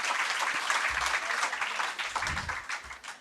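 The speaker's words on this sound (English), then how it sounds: "So clap your hands together one more time for Mohammed Hanif." An audience at a literary festival reading and conversation claps together in a steady burst of applause, dense and continuous, tapering slightly toward the end.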